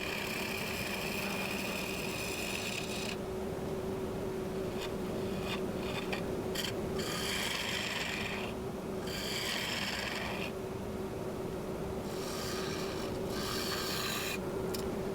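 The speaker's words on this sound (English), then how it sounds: "instead of tearing it with the scraper, I'm going to switch to the bowl gouge" A bowl gouge cuts into a granadillo wood bowl spinning on a lathe, making a harsh, rasping scrape that starts and stops in bursts over a steady motor hum, with no speech.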